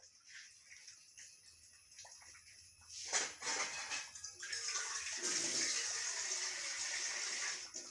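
Water gushes loudly from a tap, starting in bursts and then running in a strong, steady rush close by.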